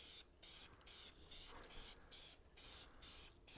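Primer paint sprayed from an aerosol nozzle in a garage, several short hissing bursts separated by brief pauses, close and fairly quiet.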